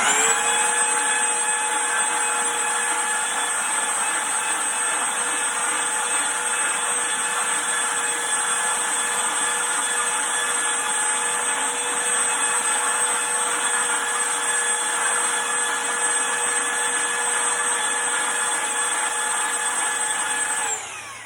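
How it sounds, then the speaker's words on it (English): A power sander whittling down wood for a replica Civil War flagstaff, running as one loud, continuous, steady whine with a strong tonal hum close by for about twenty seconds, with no talk. "these sanders are strong enough. You can just literally whittle down this wood with it."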